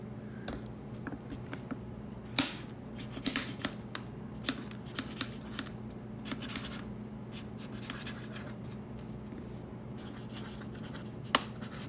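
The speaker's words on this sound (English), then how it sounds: "I'm gonna write it down." Pen scratching on paper during a live stream, soft irregular strokes and taps over a steady low background hum, fairly quiet and close with no talking.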